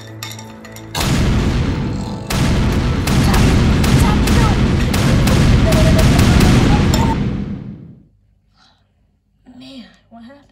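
A potion explodes in a plush-toy skit with a long, loud, rumbling roar carrying crackling bursts that lasts several seconds before cutting off abruptly, followed by quiet and a brief bit of voice.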